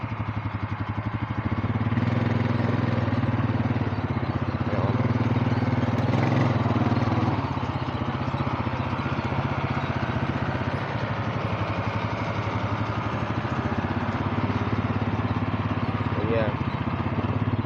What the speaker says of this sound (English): there's a tractor going